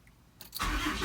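Car engine cranking briefly, then catching and starting with a loud, steady run, during work on a crank sensor and an electric fan clutch install; no talk.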